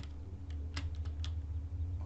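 Computer keyboard keys clatter in sparse, irregular clicks during a session of the building game Robocraft, close up over a steady low background hum, with no talking.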